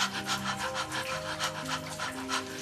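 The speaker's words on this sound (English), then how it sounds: "you start panting very fast like a dog who's very thirsty" Rapid, rhythmic open-mouth panting from a person doing a breathing exercise, quick breathy puffs repeating steadily and close up, with a low steady background tone.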